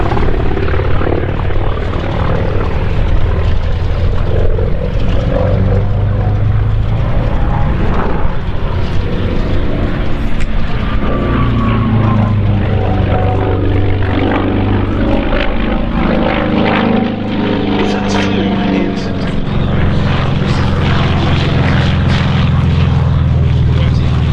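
Steady, loud propeller drone of a Grumman F4F Wildcat warplane with an R1830 radial engine flying at the Duxford airshow, a continuous roar that swells and shifts in pitch as it passes, with a commentator talking over it.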